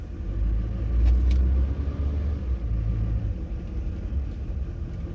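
Vehicles drive through the Whittier Tunnel in Alaska, a steady, loud, low rumble of car engines and tyres echoing, with a slight swell early on and no talk.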